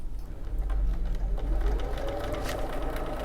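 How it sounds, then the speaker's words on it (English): A sewing machine with a roller foot stitches through leather in a steady, close, continuous whirring run with faint rhythmic clicks, with no voices. "I should be able to sew along without leaving any marking on my leather"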